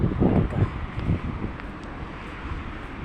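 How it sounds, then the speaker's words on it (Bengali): Strong wind buffets the microphone outdoors on a cold day in Riyadh's Al Masif area, a continuous rough low roar with gusty swells, no voices present. "আজকে প্রচুর বাতাস"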